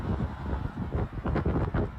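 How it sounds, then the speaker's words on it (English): Gusty wind blowing outdoors beside the Mopac highway, roaring and buffeting the microphone in loud uneven bursts for the whole stretch, with no talk over it. "It is windy."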